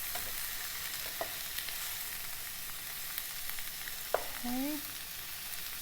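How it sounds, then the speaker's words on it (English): Tofu for vegan pad thai fries in a pan with a soft, constant sizzle and a few light clicks of a spatula turning the pieces. A person briefly says a word near the end. "You want to flip it enough times that the tofu doesn't burn, but not so often that it doesn't get browned."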